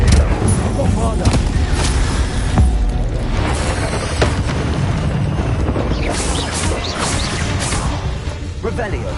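Magic blasts from Incendio and Bombarda spells in Hogwarts Legacy on a PS4 Slim crash and boom in rapid succession, layered with dense crackling impacts and a voice over a busy game mix.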